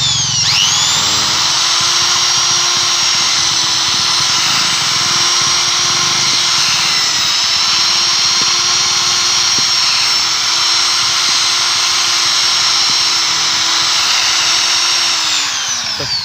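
An electric drill running continuously at high speed, a loud steady whine with slight pitch shifts as it bites, starting up and winding down.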